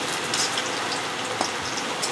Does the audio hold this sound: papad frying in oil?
yes